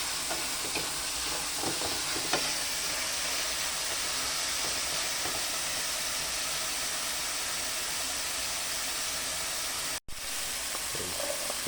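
Smoked tinapa fish sautéing in a pan, a steady broad sizzle and hiss running throughout with faint scraping.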